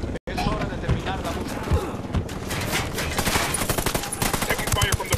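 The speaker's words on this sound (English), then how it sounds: "Taking fire from the parking area." Dense gunfire in the video game Ghost Recon Wildlands: rapid overlapping automatic bursts and single shots fill the whole stretch loudly, with voices talking underneath.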